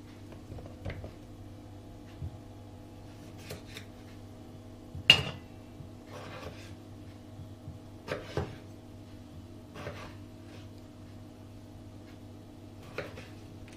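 Potatoes chopped on a board at home, four or five of them, with a steady scatter of light knife knocks and clinks over a constant low kitchen hum, sharper taps now and then.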